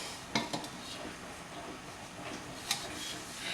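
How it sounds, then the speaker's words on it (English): A lemon glaze cake being worked out of its baking pan, with a few light metallic clinks and scrapes of a fork against the pan edges over quiet kitchen room tone. "Okay, I'm gonna try and get it out of the pan."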